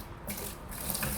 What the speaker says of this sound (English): We'll always add our water first.